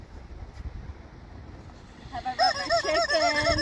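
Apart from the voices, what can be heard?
rubber chicken toy squeaking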